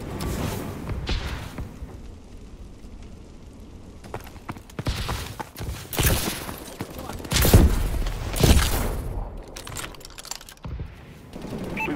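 Rapid gunfire bursts from a Call of Duty: Advanced Warfare team deathmatch on the Detroit map, loud volleys swelling and fading around the middle, with a game voice briefly heard.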